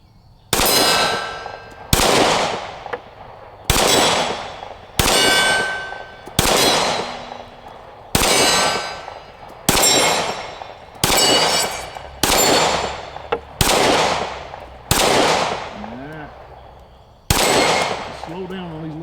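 Loud pistol shots from a Glock 43X, each followed by a bright metallic ring of steel target plates, repeating about every one to two seconds in a steady string of around eleven rounds, with the ringing decaying between shots.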